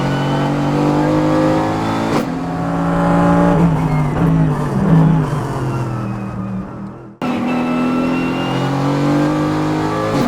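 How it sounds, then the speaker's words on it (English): A Dragon Racing Mercedes-AMG GT4 race car roars at high speed in fifth gear during night practice at Dubai Autodrome, its loud engine droning steadily from inside the cockpit, broken by one brief sharp shift. "We are in Dragon Racing Mercedes-AMG GT4, 5th gear, 210, 220 kilometers an hour."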